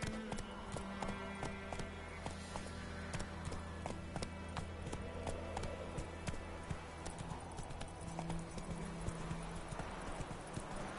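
Roach the horse gallops in The Witcher 3: Wild Hunt, with quick rhythmic hoofbeats clip-clopping steadily and close over a low ambient hum for the whole stretch.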